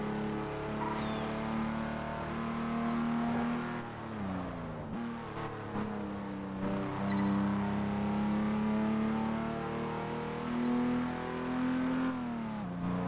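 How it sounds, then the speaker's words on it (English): Jaguar E-Type engine in the racing game Test Drive Unlimited 2, revving hard with a loud, rasping tone that climbs, dips between gear changes and climbs again across the run, with no voices. "You can really rev this a lot higher than the red line."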